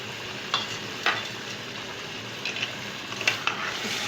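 Potatoes with lemon juice and tikka masala stirred in a pan for a Punjabi aloo matar dish: a soft, steady sizzle with a few light scraping stirs spaced through it, close and fairly quiet.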